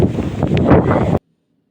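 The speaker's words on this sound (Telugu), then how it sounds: "కానీ ఫుల్గా వర్షము గాలి అయితే తోలుతుంది" Loud rain and gusting wind buffet the microphone in a dense, rushing roar that cuts off abruptly after about a second, leaving silence.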